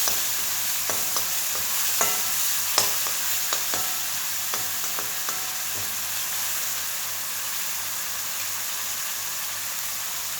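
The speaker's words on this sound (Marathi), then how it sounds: "कांदा लसूण वाटण चांगलं परतून घ्यायचं आहे" Onion and garlic paste sautéing in a pan for a Konkani-style jackfruit curry, a steady close sizzle with scattered stirring clicks and scrapes through the first half, settling into even frying hiss with no voices.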